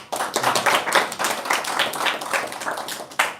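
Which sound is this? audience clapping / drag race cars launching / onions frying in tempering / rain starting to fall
audience clapping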